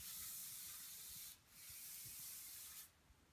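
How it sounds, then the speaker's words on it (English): A damp white cotton rag wiped over a washed wood surface, two long steady rubbing strokes, close and soft, with no talking. "wipe it off with the rag."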